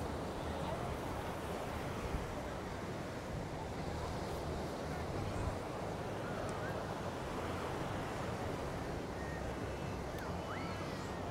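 Strong wind buffets the microphone over a steady roar of surf at Coney Island beach, a constant, dense rush of noise throughout.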